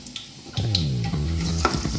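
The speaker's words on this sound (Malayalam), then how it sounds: "ഇതുപോലെ നമുക്ക് ബാക്കി മുഴുവൻ ഉള്ളിയും ഫ്രൈ ചെയ്ത് എടുക്കാം." Onions frying in hot oil while cooking restaurant-style chicken chukka, a close steady sizzle with scraping stirring sounds, and no talk.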